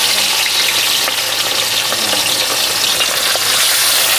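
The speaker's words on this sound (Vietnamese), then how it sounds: "Bây giờ mình bắt lên chiên. Dầu nóng nè, để lên chiên." Fish marinated with dried chili frying in hot oil, a steady dense sizzle with crackling pops running loud and continuous throughout.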